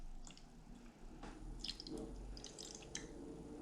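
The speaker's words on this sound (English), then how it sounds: "I'm going to take our 1/4 cup of hot water and I'm going to pour it over top of the gelatin so that it dissolves" Hot water pours over gelatin in a bowl, a quiet trickling flow with faint drips and a low background hum, close and soft.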